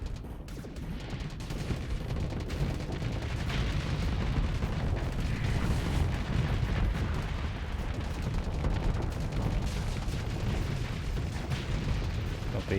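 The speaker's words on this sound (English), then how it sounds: "Torpedoes away." Torpedo launches and heavy weapons fire in the space combat game Starsector make a dense, rumbling barrage of booms and blasts, loud and continuous with little pause.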